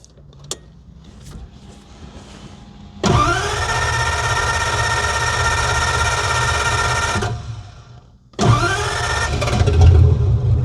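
A Flathead V8 engine fitted with a tuned ECU cranks and fires into a steady, loud idle for several seconds, cuts out, then starts again with a rumbling restart, close by with no talk.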